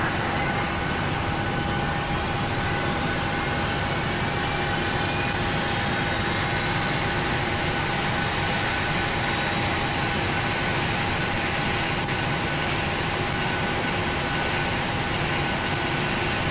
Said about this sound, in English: Start engine 2. Starter engaged.